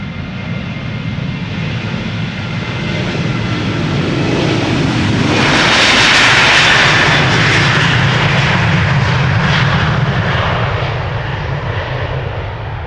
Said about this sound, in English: This is Ryanair Flight 421 to Dublin, Ireland,